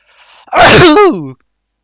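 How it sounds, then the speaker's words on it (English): A single loud human sneeze with a brief intake of breath before the sharp, forceful burst, close to the microphone in an otherwise quiet moment. "I'm gonna sneeze."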